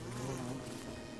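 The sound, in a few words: bee buzzing in Don't Starve Together video game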